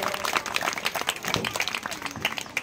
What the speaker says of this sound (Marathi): त्यांचाही आपण जोरात टाळ्या वाजवून स्वागत करावं